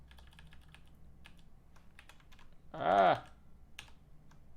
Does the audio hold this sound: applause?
no